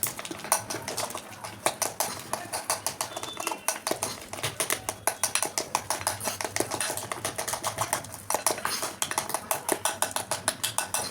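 A spoon or whisk beats Dark Fantasy cake batter in a bowl in fast, steady rhythmic clicks and taps against the side, close and continuous throughout.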